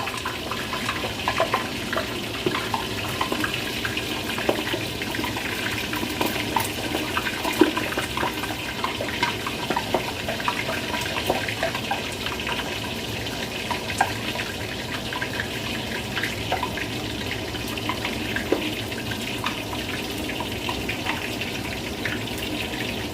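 Water splashes and sputters steadily inside a steaming pot of pickled vegetable pork, a continuous close hiss with small irregular pops and no talking.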